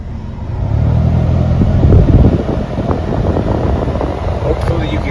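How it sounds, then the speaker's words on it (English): Failing AC blower motor running in a 2007 Toyota Avalon, a loud continuous fan whoosh with a low rumbling drone, steady throughout at close range. "My AC blower motor sounds like it's going bad"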